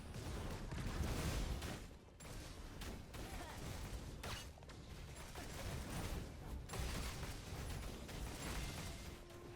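Repeated heavy booming blasts of a boss's cannon fire in the action RPG Torchlight Infinite, layered with dense combat effects and continuous rumbling bursts throughout.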